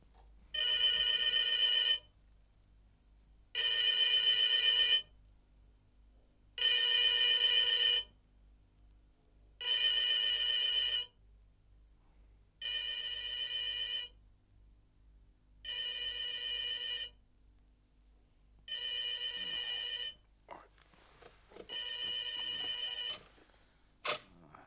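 Telephone ringing in a tense political drama scene, eight evenly spaced rings of a couple of seconds each separated by silence, clear and close, ending with a few clicks as the receiver is picked up.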